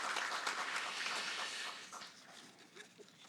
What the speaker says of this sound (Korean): 우리 축하의 박수 하십시다.